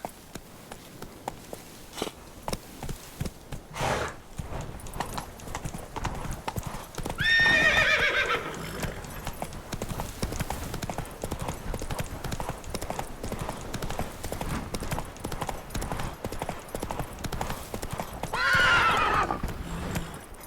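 Hooves of Roach, the horse in The Witcher 3, clatter in a fast, continuous gallop, with two sharp whinnies standing out partway through and near the end, over a steady game soundscape.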